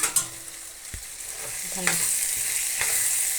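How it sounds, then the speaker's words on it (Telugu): Pieces sizzling in hot oil in a pan, with a few close clanks and scrapes of a utensil over a steady frying hiss. "వేరే బాండీలో కొన్ని ముక్కలైతే ఇలా ఫ్రై కింద చేస్తున్నాము"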